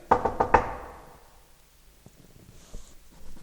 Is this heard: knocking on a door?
yes